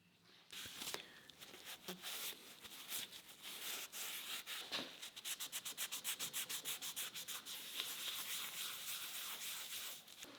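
Steady, close scrubbing strokes rub grime off an old used tool, a continuous rasping that turns into a quick regular back-and-forth rhythm about halfway through, with no voices.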